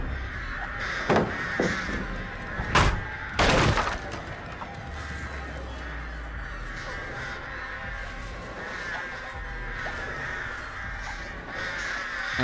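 Crows caw repeatedly in a Dead by Daylight match, several harsh calls spread across the scene over a steady ambient game background, with a few sharp bursts of noise breaking in early on.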